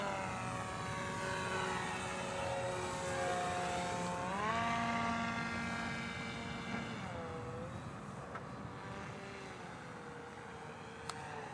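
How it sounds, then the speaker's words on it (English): The version 2 TLAR drone's electric motor whines steadily overhead on its maiden flight, a sustained buzzing propeller drone that rises and falls in pitch as it maneuvers, heard alone at moderate distance. "the maiden of the TLAR drone was kind of uneventful, but it did work"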